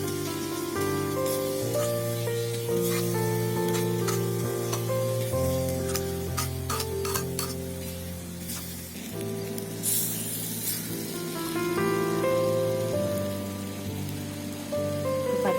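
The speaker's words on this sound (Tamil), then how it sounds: "மிளகாய்த்தூள் இதெல்லாமே சேர்த்து நல்லா வதக்கி விட்டுக்கலாம்." Coriander powder and chili powder sauté in a hot pan with a continuous, fairly loud sizzle and crackle, over steady background music.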